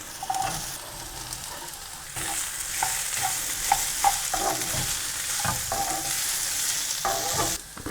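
Beetroot sizzles and hisses in a pan with ginger and cumin seeds while being stirred, with repeated scraping clatters of a utensil against the pan throughout.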